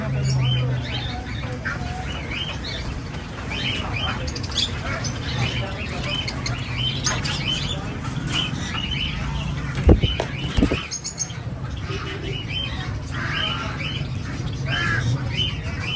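Caged breeder pet birds in a shop setting squawk and chirp repeatedly throughout, with occasional wing flapping, under steady talk and a busy background.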